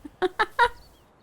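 Chickens in a medieval farming video game give three quick, close clucks in a short burst, followed by quiet.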